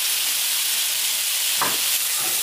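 Jiló (scarlet eggplant) frying in a pan, a steady close sizzle and hiss with a brief stirring scrape near the end, with no talking.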